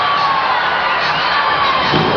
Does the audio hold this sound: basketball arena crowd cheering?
yes